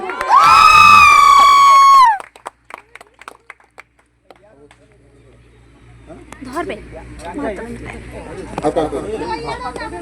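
A crowd at a college award event cheers, shouts and claps loudly for an award winner, starting with a strong burst of whooping voices and then settling into lighter clapping and chatter.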